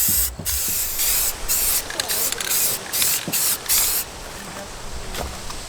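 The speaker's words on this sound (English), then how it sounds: "that was a really bad idea to spray paint on a windy day" Several bursts of aerosol spray paint hiss outdoors on a windy day on a mobile home, short and longer blasts in an irregular rhythm, close by, with faint background noise between them.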